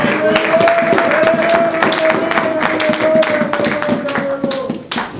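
Church congregation clapping in a fast, steady rhythm while acclaiming the Lord, the claps loud and close with a sustained sung or shouted voice line running beneath them throughout.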